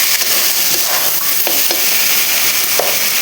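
A paste of ginger, whole cumin and green chilli fries in a pan for a dried loitta fish and red amaranth curry, with a loud, continuous close sizzle and faint stirring scrapes.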